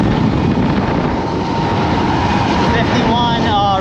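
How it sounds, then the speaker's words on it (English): A Kaabo Wolf King GT electric scooter accelerates hard along a road at around 60 mph. Heavy wind rush dominates, and a rising electric motor whine emerges toward the end. "Let's see if we can do a 60-mile-an-hour pull here."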